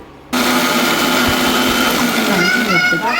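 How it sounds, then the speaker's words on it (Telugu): A kitchen mixer grinder whirs loudly and steadily, grinding a small batch of soaked cashews into paste after a brief quiet start, its motor pitch shifting slightly near the end. "ఇప్పుడు 1/2 అవర్ ముందు నానబెట్టిన 10 to 12 కాజూస్ని మిక్సీలో వేసి పేస్ట్ చేయాలి"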